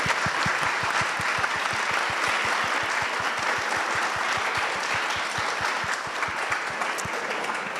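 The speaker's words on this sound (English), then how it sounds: "So, huge round of applause for our participants" Sustained, even applause fills a conference hall for participants of an international conference, with a steady rhythmic clapping pulse underneath the broad wash of claps, continuing throughout without talk.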